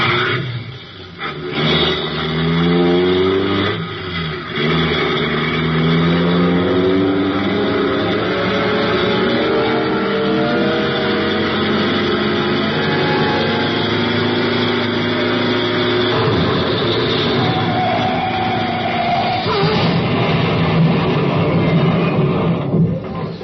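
Engine roar of a car speeding toward a roadblock in an old-time espionage radio drama, a loud, continuous revving drone that rises and shifts in pitch throughout, with no talk over it.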